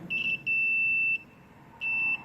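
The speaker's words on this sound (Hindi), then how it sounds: "देखो बीप बज रही है, तो यहाँ से क्या कर सकते हैं हम कंटिन्यूटी" A multimeter set to continuity gives sharp high electronic beeps as two wires are shorted together: a short chirp, then a sustained tone of about three-quarters of a second, and another beep after a pause, all clear over quiet room hiss.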